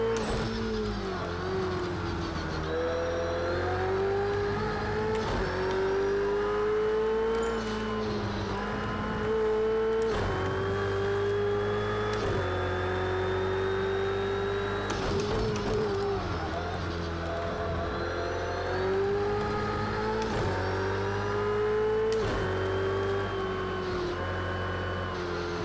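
GT3 race car engines in Project Cars 2 at Road America hold a loud, sustained drone for the whole stretch, rising and falling in pitch as the car shifts gears and brakes for corners.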